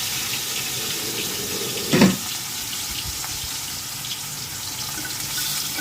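Fish is slid into hot oil in a wok, and a steady hiss of frying runs throughout, with one brief louder splash and sizzle as a piece goes in, close and continuous.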